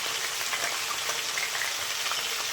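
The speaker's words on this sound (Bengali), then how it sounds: "আমি এখন আলু ভাজা বানাচ্ছি সকালের টিফিন" Potatoes frying in a pan for a breakfast meal, giving a steady, moderate sizzle and crackle that holds evenly throughout with no talking.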